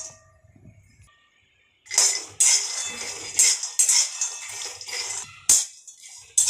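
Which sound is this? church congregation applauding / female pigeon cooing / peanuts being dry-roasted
peanuts being dry-roasted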